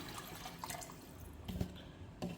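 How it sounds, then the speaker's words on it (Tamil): Water is poured into a cooking pot in a home kitchen, a faint splashing and trickling with a couple of brief louder splashes, with no one talking. "3 கப்பு தண்ணி விட்டேன்."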